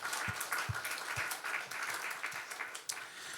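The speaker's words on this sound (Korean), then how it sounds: "우리 하나님께 박수하십시다." A church congregation claps for God during a sermon, a sparse, uneven scattering of hands heard fairly faintly in a reverberant hall, with a few distinct individual claps standing out.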